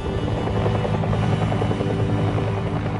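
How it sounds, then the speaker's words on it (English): A Bell UH-1 Huey helicopter in flight, its rotor thumping in a steady, rapid rhythm with a droning engine hum, loud and close throughout with no voices. "To the men who lived and fought their war in helicopters, the Huey remains something special."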